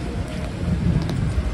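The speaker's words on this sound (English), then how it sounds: "it's been raining all day long here" Rain falls steadily on a misty, rainy night in New York City, a continuous soft wash of drops with no breaks and no voices.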